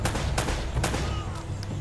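Gunfire in the action video game Uncharted, a few sharp shots cracking out in quick succession over a busy background of bullets and combat noise, fairly quiet overall.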